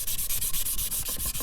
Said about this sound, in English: You can sand the outside edge also.